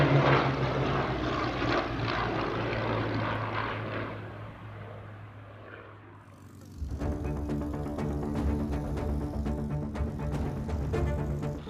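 Droning engine roar of a World War II propeller fighter plane such as a P-51 Mustang flying past, a steady rumble that dips and then returns with a harsher buzzing, harmonic-rich propeller tone.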